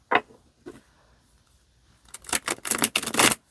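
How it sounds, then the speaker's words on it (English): Crisp papery clicks and riffling of slightly stiff tarot cards, a couple of isolated snaps, then a dense burst of rapid shuffling close by. "We'll give these a shuffle so you can see how they shuffle."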